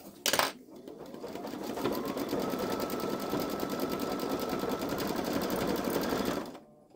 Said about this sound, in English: While it's stitching out